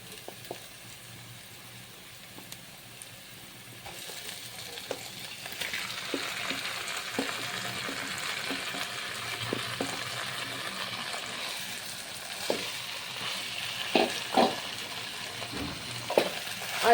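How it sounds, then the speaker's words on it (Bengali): Spice-coated hilsa fish pieces go into a pan of cooked-down masala and start frying, a low steady sizzle swelling after a few seconds, with scattered soft clinks and scraping stirs running over it. "আর এখন আমি মশলা মাখানো মাছগুলো দিয়ে দেব।"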